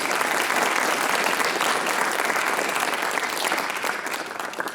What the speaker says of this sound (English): So just a quick round of applause again for Ava, please.